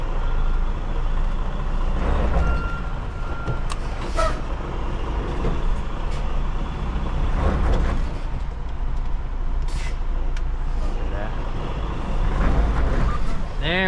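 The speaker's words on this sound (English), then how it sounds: "Trying to slide tandems on gravel is not easy." A semi-truck working to slide its trailer tandems on gravel, with a loud continuous diesel rumble, brief air hisses and clunks throughout, and some voice mixed in.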